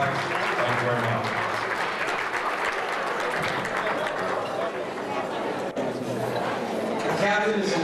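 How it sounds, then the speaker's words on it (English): Banquet audience applauding at a high school sports awards dinner, continuous clapping with some chatter underneath, moderately loud and fairly even throughout. "Let's give a big round of applause."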